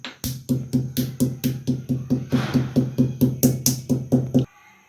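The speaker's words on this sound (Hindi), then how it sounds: "3 सब्ज़ इलायची ले लें और इसको थोड़ा मोटा मोटा कूट लें।" Three green cardamom pods are coarsely crushed, about twenty sharp, evenly spaced pounding thuds in a steady rhythm, loud and close, stopping abruptly after four and a half seconds.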